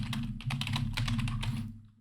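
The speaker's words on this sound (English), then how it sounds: "I'll type in some text." Rapid, busy typing on a computer keyboard, dense clatter of key presses running continuously for about two seconds over a low hum, then tapering off; no one speaks.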